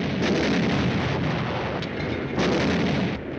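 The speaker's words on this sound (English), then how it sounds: "Artillery zeroed in on us." Artillery fire in a 1951 Korean War tank film, a continuous loud roar of barrage blasts and rumbling bursts filling the whole stretch with no let-up.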